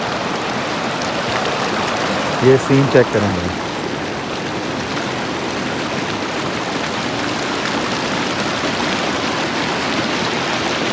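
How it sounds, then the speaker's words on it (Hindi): Glacier meltwater stream flowing at Khunjerab Pass in deep winter cold, a steady close rushing hiss throughout, with someone speaking briefly over it early on. "ये पानी की आवाज़ ही बहुत ज़्यादा खूबसूरत होती है।"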